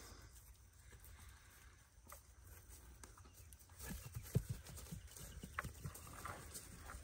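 Donkeys on a farm moving about, hooves clip-clopping irregularly at a distance, faint at first and growing busier and a bit louder in the second half, with no talking.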